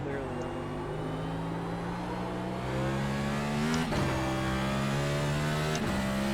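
A NASCAR Cup car's engine revs and shifts in iRacing at Sonoma, a steady loud drone with rising pitch sweeps and two sharp gear changes, alongside other cars nearby.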